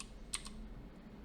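Computer keyboard with a couple of quick, faint key clicks close together near the start, then quiet room hiss.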